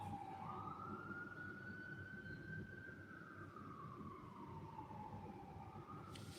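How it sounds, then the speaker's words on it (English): A siren wails outside, one long tone sliding up and then down in a slow sweep, steady and fairly distant over a low rumble of background noise, with no talking. "And then you hear the sirens outside."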